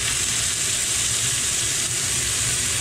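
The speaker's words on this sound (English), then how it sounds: "now I'm just gonna put the tuna straight into the pan in the hot oil and let it just sear" Yellowfin tuna searing in hot oil in a pan, a loud steady close-up sizzle and hiss with no speech.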